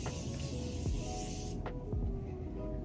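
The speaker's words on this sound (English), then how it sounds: "I'm gonna spritz." A few quick spritzes of makeup setting spray from a spray bottle, soft airy hiss bursts up close over steady room background.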